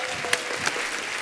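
Studio audience at a Hindi TV comedy talk show applauding a guest's entrance, a short burst of clapping with a couple of louder claps standing out.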